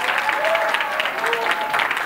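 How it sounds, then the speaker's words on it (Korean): Concert audience applauds at a Korean hip-hop, dance and vocal showcase: a dense, steady wash of clapping lasting the whole moment, with faint tones and voices underneath. "박수를 확실하게 주시기 바라겠습니다"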